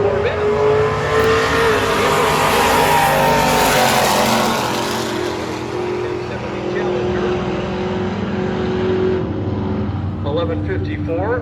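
A 1977 Corvette at a drag race charges down the strip, its engine roaring loud and close, revving with rising pitch that sweeps past and fades as another car follows, while an announcer talks over it.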